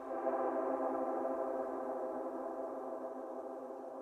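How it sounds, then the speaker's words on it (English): A Knobula Poly Cinematic synth module lets a lush reverb tail ring out, a steady, sustained wash of layered tones holding evenly for several seconds and fading only slightly, with no talking over it. "Listen to that reverb."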